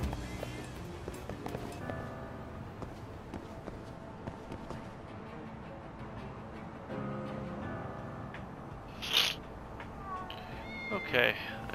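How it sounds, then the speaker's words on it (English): Cats meowing inside the video game Lost Judgment, two short bright meows near the end over a steady bed of game ambience and background music. "she stopped and said hi to the kitty cats"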